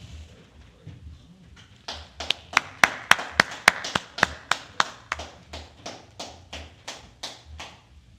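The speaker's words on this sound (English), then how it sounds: "Clap it up for that brother" Rhythmic clapping in a small gathering, a steady run of about twenty sharp, evenly spaced claps starting after a quiet lead-in, fairly close and gradually softening toward the end.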